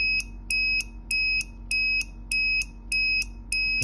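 The buzzer on an obstacle-detection circuit beeps rapidly in a steady pulsing rhythm, eight even electronic tones close to the microphone over a faint background hum.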